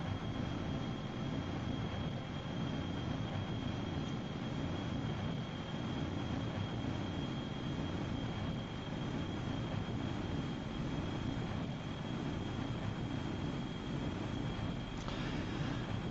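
Steady, continuous aircraft engine drone from a plane in Kerbal Space Program, a broadband roar with a thin constant whine, running unbroken at even loudness throughout.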